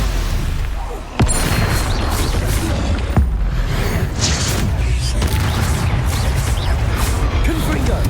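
The Stupefy spell is cast in Hogwarts Legacy, with sharp magical cracks and booming impacts punctuating a dense, loud wash of combat effects and game ambience.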